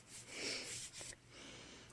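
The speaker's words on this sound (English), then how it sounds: "Yes, more sniffing." A person takes several soft, close sniffs, probably of a scented blush makeup product, with short airy bursts of breath in a quiet room.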